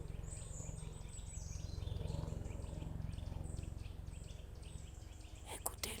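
Birdsong along a forest hiking trail near Saint-Martin-de-Seignanx, with repeated high chirps and calls over a steady low rumble of ambient noise, moderately distant, and a brief louder rustle near the end.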